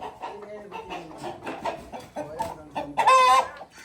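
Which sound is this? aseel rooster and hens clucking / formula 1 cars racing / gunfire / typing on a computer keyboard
aseel rooster and hens clucking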